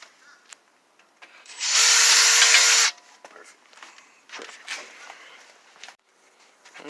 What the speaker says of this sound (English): Alright, so now he's drilling the other side.